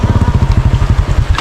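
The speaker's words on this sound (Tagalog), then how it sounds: "Grabe yung ulan." Heavy rain pours down steadily and close, a dense pattering wash with a low rumbling undertone, likely from a vehicle engine idling nearby, with no talk.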